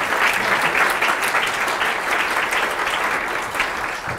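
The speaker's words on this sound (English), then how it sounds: "Can we have a round of applause for?" A conference audience at a DevOpsDays event in Singapore applauds, a dense, steady burst of clapping from many hands that holds strong for about four seconds before starting to thin slightly at the end.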